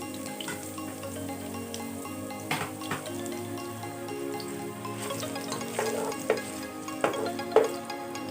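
Chopped onion and ginger sautéing in a pan for salmon-head sinigang, a steady soft sizzle under a tonal hum, with several sharper clicks and scrapes of stirring toward the end.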